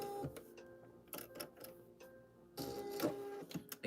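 A sewing machine runs a straight stitch in short mechanical bursts with brief pauses between, close and moderately loud, with ticking, whirring motor tones and no talking.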